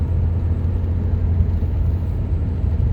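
A 2000 Honda Accord accelerating on a test drive, heard from inside as a steady low engine rumble and road drone, even and continuous with no voices.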